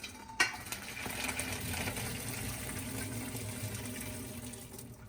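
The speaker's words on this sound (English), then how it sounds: "As your gnocchi is finished, you're going to want to drain the water." Gnocchi cooking water drained from a pot makes a steady, fairly faint rushing splash that runs throughout, with a small clunk near the start.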